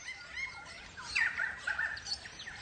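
Crimson rosella parrots calling in a recovering forest during breeding season, a few bright, squeaky chirps and whistles rising over steady background ambience, moderately close.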